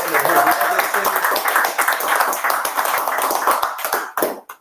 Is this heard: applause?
yes